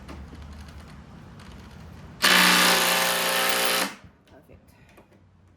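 A cordless power drill is used while building a garden workbench, running at full speed in one loud, even whine for under two seconds before spinning down. A quiet voice is heard before and after.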